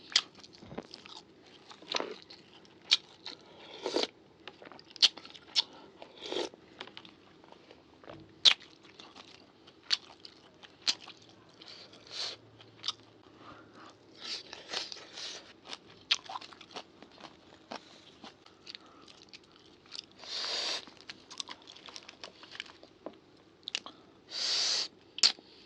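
Close, crunchy chewing and biting while eating rice with Lao sour chicken leg soup, with irregular wet mouth clicks and smacks spread across a quiet background and a few louder bursts near the end.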